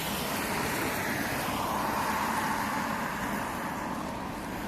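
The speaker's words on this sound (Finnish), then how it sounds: "kun menee autoja koko ajan" Cars passing steadily on a busy road at a bus stop, a continuous broadband traffic roar that holds level throughout with no pauses between vehicles.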